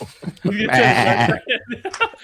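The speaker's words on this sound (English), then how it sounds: "The goats or sheep is on the other side of the wall." Goats or sheep bleat on the other side of a home radio studio wall, one long wavering cry that rises loud and is followed by shorter calls and soft chuckling sounds.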